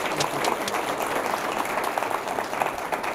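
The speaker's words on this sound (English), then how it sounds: "let's give him a round of applause" At a public event on an infrastructure jobs act, the audience gives a New Hampshire senator a round of applause; a sustained, even roar of many hands clapping, moderately loud and without talk over it.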